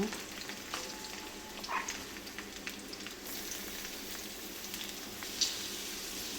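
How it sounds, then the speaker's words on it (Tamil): Onion fries in hot oil in a pan, giving a soft, continuous sizzle. Occasional stirring clinks and scrapes rise briefly above the hiss, with one sharper tap near the end. "வெங்காயம் நல்லா வதங்கட்டும், வெயிட் பண்ணுவோம்"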